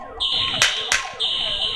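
A fire alarm sounds during a school active shooter drill with heavy smoke, a shrill, piercing electronic tone broken by two brief bursts of noise, loud and close.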